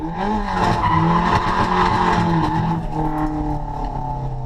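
Car drifting on a track with tyres pumped to about 50 psi, engine droning loud and steady while rising and falling tyre squeal runs continuously throughout.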